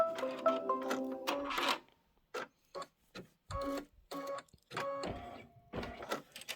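A Kimberbell quilt embroidery machine stitches fabric, giving a rapid mechanical whirring in a dense run and then a series of short, evenly spaced rhythmic bursts separated by brief pauses, close and loud.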